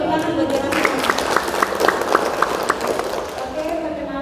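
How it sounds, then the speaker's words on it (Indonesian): Audience applause at a business presentation seminar, a burst of scattered clapping that swells in the middle and fades out, with people talking over it. "Oke tepuk tangan buat Bapak."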